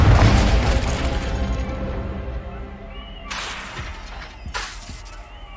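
Confringo fire spell blasting in the Hogwarts Legacy video game during spell practice in an office, a loud, dense burst of explosive noise followed by two sharp crackling blasts near the end, with no voices.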